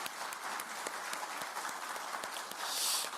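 An audience at a political event applauds President Lee Jae-myung, a dense and steady patter of many hands clapping at moderate distance that swells slightly toward the end.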